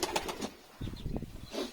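Pigeons drawn in by food being offered, giving brief soft coos and fluttering wing flaps close by, quiet and intermittent across a short moment with no voices present.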